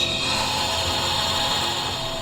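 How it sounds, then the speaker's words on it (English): A steady, unbroken hissing roar of an open gas flame burner used for bending glass tubes, close and constant in level, with no voices. "she'll hold the glass tube on either end over an open flame burner"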